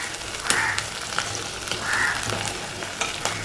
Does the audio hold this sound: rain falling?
no